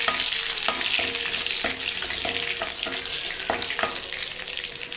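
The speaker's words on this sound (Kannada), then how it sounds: "ಕರಿಬೇವು ಮತ್ತು 1-2 ಒಣಗಿದ ಮೆಣಸಿನ್ಕಾಯಿ, ನೆಕ್ಸ್ಟು ಬೆಳ್ಳುಳ್ಳಿ ಹಾಕೊಂಡು ಒಂದು ಸ್ವಲ್ಪ ಹಿಂಗೆ ಮಾಡ್ಕೊಳ್ಳೋಣ" Curry leaves, dried red chillies and garlic sizzle in hot oil in a pan as a tempering for bisi bele bath, a continuous crackling fry broken by repeated sharp scraping stirs of a spoon against the pan.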